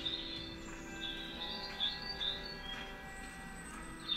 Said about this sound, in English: Birds are loud as shit.